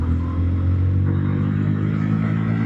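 A Bajaj Pulsar 125 motorcycle with a five-speed gearbox accelerates on the road, its engine droning loud and close with a steady rising rumble and some mechanical clatter, and no voices over it.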